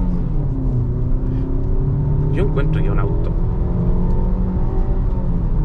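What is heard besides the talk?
Suzuki Vitara 1.6 car engine accelerating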